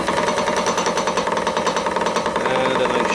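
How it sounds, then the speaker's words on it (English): A roughing gouge cutting wood on a spinning lathe, a continuous buzzing, rattling chatter with a pulsing, throbbing texture, close and loud, with a slight shift in tone near the end. "I slowly start turning into the edge."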